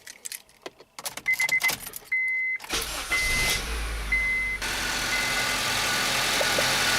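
Keys jangle before a 2006-2011 Honda Civic engine cranks and catches, then settles into a loud, steady idle close by.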